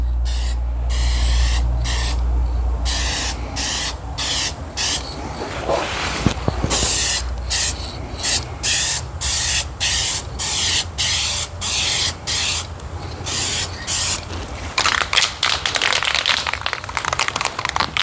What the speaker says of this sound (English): I'll just shoot in a light coat for now.